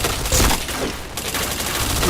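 Rapid gunfire from the PointBlank shooter game crackles in quick bursts of shots, loud and close, with a brief pause in the middle before the firing resumes.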